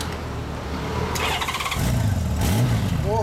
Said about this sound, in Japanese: エンジンを聞かせてもらえますか。